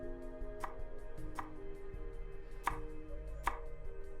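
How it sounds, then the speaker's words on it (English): Carrots being chopped in the video game MiSide: four sharp knife strikes on a board, spaced roughly a second apart, over a steady hum of in-game background music. "Cut up the carrots."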